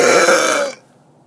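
One long, loud, close burp that rumbles for most of a second and then stops abruptly, leaving a faint echo in the room.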